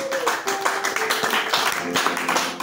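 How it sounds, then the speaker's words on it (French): A church congregation applauds at a sermon: steady, loud clapping from many hands carries through the whole stretch, with a voice speaking over it. "Oh là là, acclamez très très fort"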